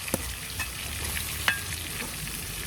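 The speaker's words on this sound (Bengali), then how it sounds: "এদিকে ওগুলো যেন লেগে না যায় এই জন্য একটু নাড়াচাড়া করে দিচ্ছি" A spoon or spatula stirs spiced ingredients frying in oil in a pan so they don't stick. Steady sizzling runs throughout, and a few sharp scrapes and taps cut through it, with no voices.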